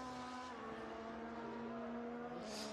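Formula 1 cars pulling away and running on track during qualifying, a steady high engine whine sustained throughout at a distance, with a brief hiss near the end.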